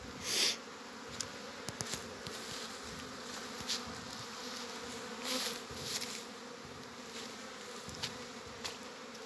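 Honeybees buzz steadily around an opened hive in which cellophane bags of sugar syrup sit, a soft, continuous drone with occasional louder passes of insects close by.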